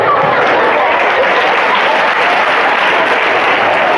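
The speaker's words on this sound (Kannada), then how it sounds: "ಚಪ್ಪಾಳೆ ಹೊಡಿತೀರಲ್ವ." Loud, dense applause from a seated audience at a motivational talk, a continuous wash of many hands clapping close by, sustained evenly throughout with no speech on top.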